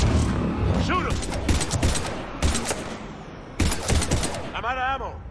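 Rapid automatic gunfire from a Mass Effect 3 battle against Husks during a Reaper invasion, loud bursts of shots repeating in clusters with shouting voices between and over them.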